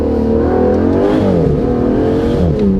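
The 715-horsepower V12 of an Aston Martin DBS Superleggera Volante revs loudly and continuously, its pitch rising and dipping in smooth, close-up surges.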